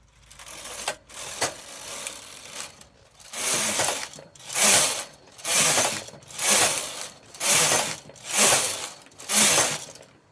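A knitting machine carriage works a wildlife pattern, pushed back and forth in about eight regular rasping, clicking passes, each swelling and fading with a brief pause between.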